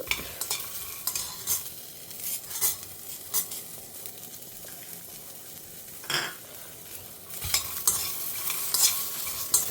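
Peanuts and coconut roasting in a pan, stirred with a utensil: soft sizzling under repeated scraping and clinking strokes at an irregular rhythm, close by and with no talking.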